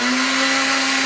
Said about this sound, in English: Where is my immersion blender?